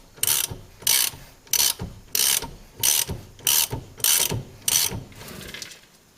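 A ratchet wrench clicks in eight quick bursts, evenly spaced, loosening a rear upper control arm bolt on a 2002 Honda Civic, each burst a close, sharp metallic clatter with short pauses between.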